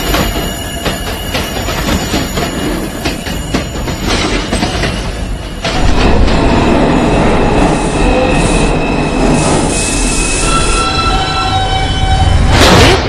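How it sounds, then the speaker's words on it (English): An R142 number 5 subway train runs from Brooklyn Bridge toward New Lots with loud, continuous rumbling and wheel noise, swelling louder partway through, and thin high squeals from the wheels on the rails. "This is a new Lutz Avenue bound 5 train."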